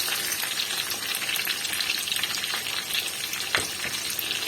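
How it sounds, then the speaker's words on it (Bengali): Potatoes frying with black cumin in a hot pan give a steady, dense sizzle and crackle that runs unbroken throughout, close and fairly loud, with a brief sharper spatter near the end. "এবার কালো জিরেটা একটু ভাজা ভাজা হয়ে গেলে তার মধ্যে আমি আলুগুলোকে দিয়ে দেব"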